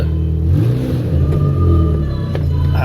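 A Honda ATC 200e three-wheeler climbing a steep trail in second gear, its engine droning loud and close with a steady labouring hum that rises and falls slightly under load, with no voices.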